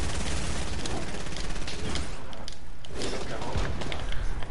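Rapid bursts of video game gunfire crackle continuously, dense and loud, with a voice speaking underneath the shooting.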